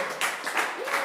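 A church congregation applauding in a brief, dense wash of clapping that fills the room steadily and evenly, with no voices standing out.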